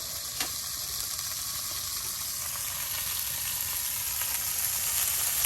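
Onions fry in oil in a pot on a clay stove during village cooking of native chicken, giving a steady, close, loud sizzle that hisses without a break from start to finish, with no talking.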